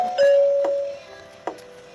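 A two-tone electronic doorbell chime in the video game Boku Boku rings once, clear and close, followed by faint short clicks.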